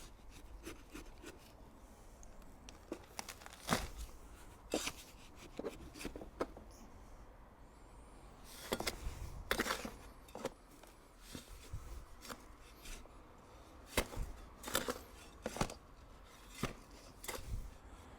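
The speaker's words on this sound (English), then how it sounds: "I'm now going to transfer this mix into a second bucket just to make sure that it's thoroughly mixed right at the bottom" Refractory concrete mix for a pizza oven is scraped and tipped from one bucket into a second, giving scattered gritty scrapes and knocks with quiet pauses between them.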